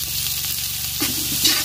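Onions, green chilies and a piece of ginger fry in a pan, a steady close sizzle with a brief stirring scrape partway through.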